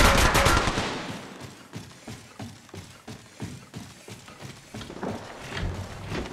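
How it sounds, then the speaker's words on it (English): Gunfire rattles in Apex Legends Mobile, played as Pathfinder in first person, with a loud opening volley followed by rapid, evenly spaced shots and further bursts, close and dominant with no talk over it. "Contact! Opening fire!"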